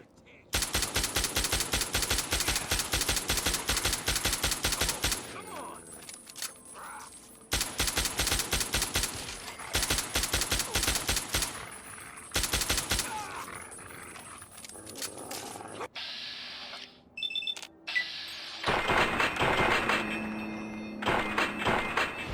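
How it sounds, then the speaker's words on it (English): Perforator assault rifle in Fallout 3 firing repeated two-round bursts, loud and close, in several rapid strings separated by short pauses, with explosions and rumbling game noise near the end. "Notice each burst has 2 rounds instead of 3 with the perforator, as opposed to most other assault rifles."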